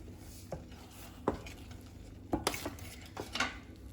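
Salt is stirred into chestnut rice cooking in a pot, giving a few scattered scrapes and taps of a spoon against the pot, quiet and close, with no voices.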